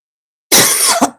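A single harsh cough, close and loud, with a short second burst at the end, alone after silence.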